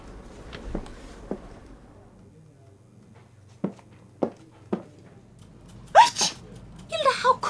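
A single sneeze from a character in the video game Murder in the Alps, short and fairly faint, among soft footsteps and light ambient sounds, followed by brief talking.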